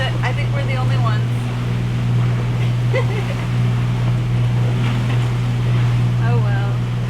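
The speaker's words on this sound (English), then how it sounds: "anchors offshore, 5 miles offshore, and almost 20 knot winds" Strong offshore wind of almost 20 knots buffets a boat anchored five miles out at sea, a steady roar with a low engine-like drone beneath, while people talk intermittently over it.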